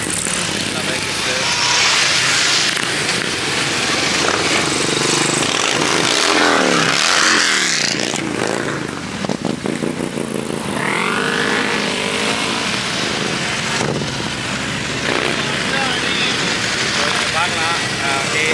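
A group of motorcycles pulls away after a beach stop, with engines revving and passing close by in a loud, continuous roar that swells and fades as bikes ride off outdoors.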